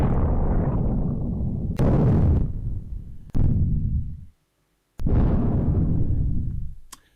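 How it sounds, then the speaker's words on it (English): Several deep, rumbling explosion blasts, each a sudden boom that rolls and fades, with short silent gaps between them, loud and heavy. "I want the sound of an explosion in space"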